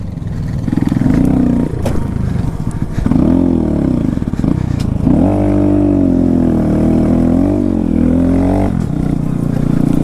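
A Honda Grom motorcycle rides through mud, its engine revving and bogging in long, changing surges, loud and close, with the pitch rising and falling as the wheels slip.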